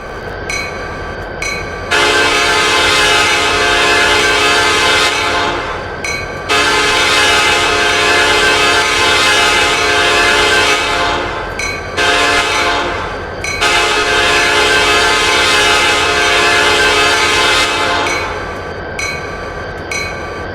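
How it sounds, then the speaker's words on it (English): Metra F40PH-3 diesel locomotive horn in Train Simulator blares in three long, loud chord blasts separated by brief pauses, with a low engine rumble underneath. "there is still a horn mod available for the Metra F40"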